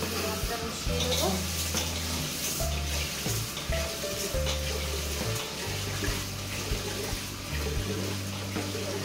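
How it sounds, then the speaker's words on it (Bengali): Rice being washed under a running kitchen tap, water splashing steadily into a pot with shifting swishes and gurgles as the grains are stirred, continuous and close throughout. "এবারে ধুয়ে নেবো চালটা"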